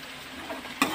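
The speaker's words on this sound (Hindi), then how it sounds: "3-4 मिनट के लिए इसी तरीके से फ्राई करते रहेंगे ताकि ऑयल और मसाला अच्छी तरीके से आलू अपना कलर चेंज कर ले उसमें।" Potatoes frying in oil and masala in a kadai, a soft continuous sizzle with a sharper scrape of the spoon near the end, close and brief with no voices.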